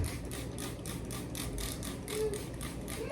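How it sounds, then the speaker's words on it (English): A hand-held spray bottle pumps a rapid series of short mechanical hisses as it mists soil in microgreen trays. The sprays repeat in a quick, even rhythm close to the listener. "I'm just going to take my mister or my spray bottle"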